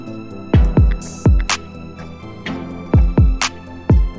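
A sparse percussion loop of punchy low thumps and short bright ticks in a syncopated pattern, close and clean with no voices.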